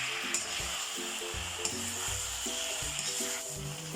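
Pieces of pork fry in their own rendered fat for a home-style pork hamonado, a steady close sizzle with soft stirring scrapes and faint background music.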